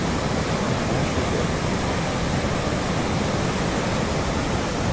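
Spring water pouring steadily from a roadside fountain near Bishkek, Kyrgyzstan, a dense continuous rushing splash, close and even throughout with no pauses.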